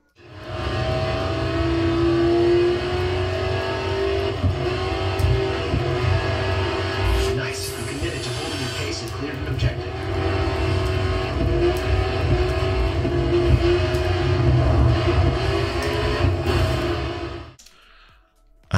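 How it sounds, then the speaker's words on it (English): Racing cars in the video game Grid 2 played on a gaming PC: engines rev and roar continuously, rising and falling with gear changes and passing cars, loud and sustained for about seventeen seconds before cutting out. "here I'm playing Grid 2 on my gaming PC"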